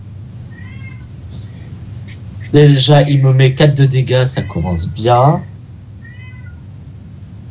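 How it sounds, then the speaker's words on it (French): A house cat meows several times, faint and intermittent, while someone talks over a Hearthstone game; one meow sounds near the start and another near the end, with the voice dominating the middle. "je suis désolé si vous entendez le chat"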